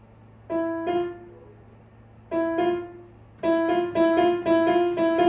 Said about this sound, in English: If I did a minor second,